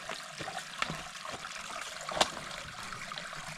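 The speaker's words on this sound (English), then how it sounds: "We're at the creek." Creek water trickling outdoors, a soft continuous babble with faint splashes and a couple of sharper clicks, gentle and steady without talking.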